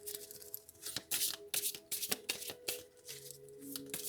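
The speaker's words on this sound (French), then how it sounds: "Je vais bien brasser les cartes" Tarot cards being shuffled by hand, a close run of crisp riffling and slapping bursts with brief pauses between, fairly soft and alone.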